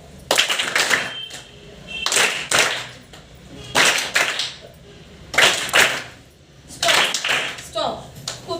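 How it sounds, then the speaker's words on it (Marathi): A group of students performs a patterned welcome clap in a classroom, with sharp bursts of many hands clapping together in rhythmic clusters, separated by brief pauses, loud and close. "welcome clap go"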